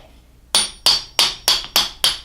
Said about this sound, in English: let's put this nut on a little bit and just do some light tapping